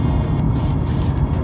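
A BMW E36 318is Touring car exhaust drones with a steady, raspy note, loud and close throughout.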